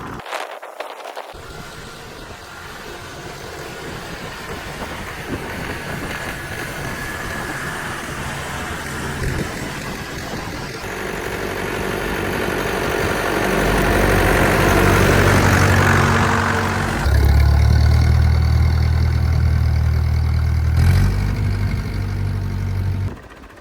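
A 60-year-old tractor ploughing a field: a loud, steady diesel engine drone that grows heavier and deeper as it labours under load, close by and continuous throughout with no talk.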